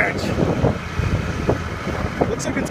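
Strong wind buffets the microphone in a constant roar, with faint gusty rises and no voices.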